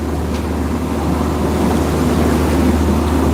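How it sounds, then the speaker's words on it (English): A sailboat motor-sails under both wind and engine on a passage from Papua New Guinea toward Indonesia, a steady low motor drone beneath broad wind and water rush, constant and close, with no talking. "We're motor sailing."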